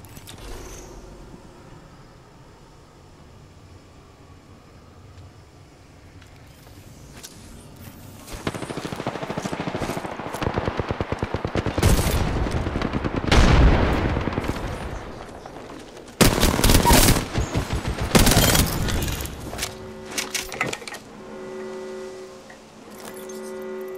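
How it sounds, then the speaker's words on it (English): Gunfire in the game Apex Legends: after a quieter start, loud rapid bursts of automatic fire and sharp shots crowd the middle and later stretches, broken by short pauses. "I don't know who they were shooting."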